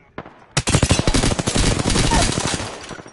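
Rapid automatic gunfire in the video game Apex Legends rattles out in a loud, close stream of shots after a couple of isolated reports.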